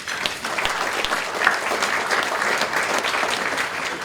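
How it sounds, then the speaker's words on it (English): An audience at a Hilton hotel event gives the staff a round of applause, a steady, dense burst of many hands clapping at moderate loudness throughout. "if you can give the Hilton staff a round of applause"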